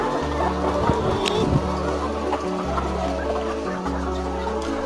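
Layer hens on a poultry farm, some ailing and laying fewer eggs, cluck steadily in a dense flock over a constant low mechanical hum, close and fairly loud with no talk.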